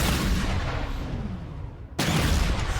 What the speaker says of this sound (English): Next we have the Gosport Hog. Still the same Gauss cannon.